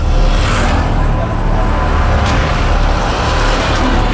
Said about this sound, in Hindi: हाईवे पर गाड़ियां अपनी मंजिल की ओर दौड़ी जा रही थी